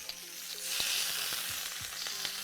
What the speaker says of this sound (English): Beautiful searing on that steak